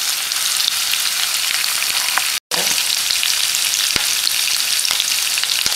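Green chilli and curry leaves fry in hot oil for egg bhurji, giving a steady, close, loud sizzle throughout with a brief drop-out near the middle and occasional small pops.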